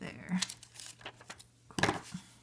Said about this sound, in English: Gonna use some scissors and cut right about there.